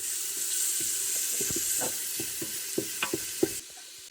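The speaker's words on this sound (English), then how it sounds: "We're just going to saute the onion and garlic until translucent." Onion and garlic sauté in a Ninja Foodi pot, making a soft continuous sizzle with a run of light spatula taps and scrapes against the pot.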